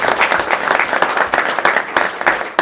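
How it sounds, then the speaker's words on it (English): Audience applause at a press conference, a dense, loud burst of many hands clapping close by, sustained evenly for a couple of seconds with no talk over it. "Let's clap for that"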